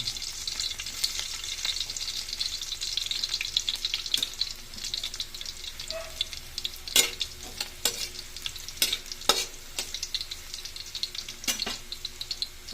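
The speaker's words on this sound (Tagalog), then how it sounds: "nilagyan mo natin ng mantika sunod ilagay natin yung bawang" Garlic fries in cooking oil with a steady sizzle, overlaid by repeated sharp spatula scrapes and clacks against the pan, with some watery splashing sounds mixed in.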